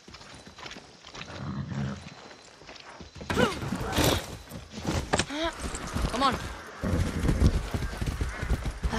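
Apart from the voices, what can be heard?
horse galloping, from the video game Far Cry 6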